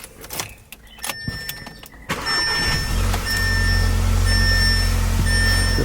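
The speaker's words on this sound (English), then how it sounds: "now it's time to turn on the car" An Audi convertible is started: keys and interior clicks and chimes precede the engine catching, which then settles into a steady low idle with repeated warning tones, close and without talk.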